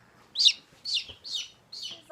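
A young Sussex chick, a little rooster, gives four short, high peeps in a steady rhythm. They sound close and clear against a quiet background.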